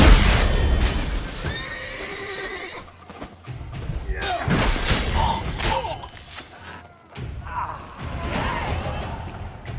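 A horse neighs and whinnies several times amid action noise in the video game The Witcher 3: Blood and Wine, with voices talking over parts of it.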